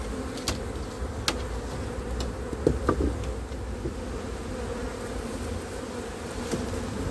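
Honeybees hum steadily around a busy hive during a beekeeper's hive move, a constant close, low drone with occasional soft clicks and knocks from handling.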